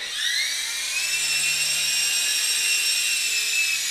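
Sky Rover Dark Stealth toy drone flying in a dark room, giving a steady, high-pitched propeller whine with layered tonal harmonics that holds close and constant throughout, with no voices.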